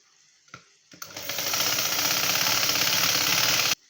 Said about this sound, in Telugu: దీనిపైన మళ్ళీ ఇంకో కుట్టు వేసుకుందాం